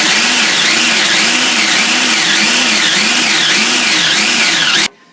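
A food processor pulses celery, garlic and onion down to a paste, its motor whirring loudly and steadily with a rhythmic, wavering pitch for about five seconds before cutting off abruptly.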